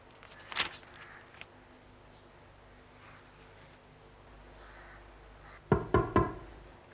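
Three quick knocks on a hospital room door, close and fairly loud, near the end after a quiet stretch with a brief bump earlier; no talking.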